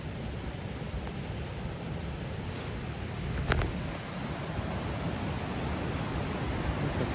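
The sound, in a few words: rushing river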